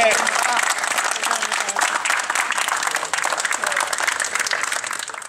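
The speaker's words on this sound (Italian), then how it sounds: "Un applauso!" Outdoor crowd applauding at the reopening of Bondeno's earthquake red zone, a dense, steady clatter of many hands lasting throughout, with some voices mixed in underneath.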